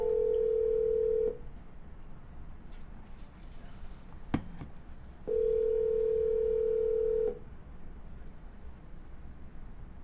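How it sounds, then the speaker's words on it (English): A telephone rings on an outgoing call to a seller. There are two long, steady ringback tones with a quiet line hiss between them, and one sharp click lands in the gap. "We're going to double dial."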